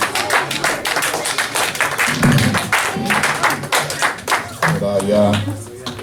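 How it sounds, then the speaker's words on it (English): A congregation at a morning service gives a round of applause: dense clapping that runs steadily for several seconds, with voices mixed in underneath. "Let's give Geveret another round of applause."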